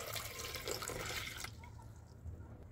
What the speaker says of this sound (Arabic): هنبتدي نحط كوبايه ميه